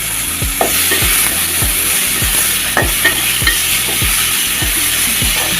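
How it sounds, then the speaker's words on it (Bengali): Chopped onion and tomato fry loudly in oil left over from frying fish, with a dense continuous sizzle. A spoon scrapes the pan in a regular rhythm of sharp strokes, roughly two per second. "মাছ ভাজার তেলগুলো দিয়ে দিলাম, পেঁয়াজ কুচি দিয়ে দিলাম, টমেটো কুচিও দিয়ে দিলাম সাথে।"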